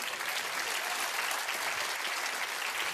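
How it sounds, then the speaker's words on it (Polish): Theatre audience applauding a comedian on stage at a stand-up show, dense continuous clapping from a full room, loud and steady for a few seconds with no talking. "zanim brawo dla mojego kolegi"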